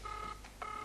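Two short bursts of dual-tone telephone dialing beeps separated by a brief pause, clear and close, with no talking.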